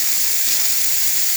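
Steam hisses steadily from the spout of a Jura E6 coffee machine after a descale and service, a loud, constant, close rushing sound with no talk.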